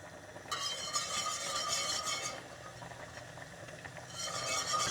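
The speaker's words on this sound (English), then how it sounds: "Now we're going to be adding flour just a little bit at a time while we're whisking it in." A whisk scrapes and clinks steadily in a pot as flour goes into melted butter for a potato and ham soup. The rhythmic stirring is close and continuous, with a faint sizzle underneath and no talking.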